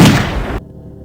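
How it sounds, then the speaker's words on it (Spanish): A single loud gunshot rings out at night, a sharp, booming burst that cuts off abruptly after about half a second, leaving quiet low rumble behind. "El disparo resonó en la noche como un trueno."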